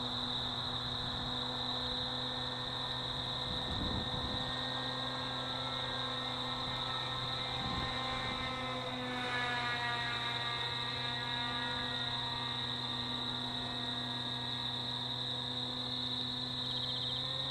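FX79 Buffalo model airplane flying at half throttle, its motor a steady, faint, thin whine held at one pitch, heard from a distance against an even background hiss.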